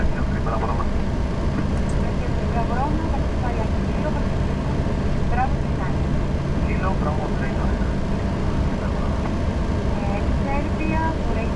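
Inside the cockpit of a Boeing 737 on approach to Athens Airport, a steady loud engine and airflow roar fills the scene, with faint radio chatter and voices underneath.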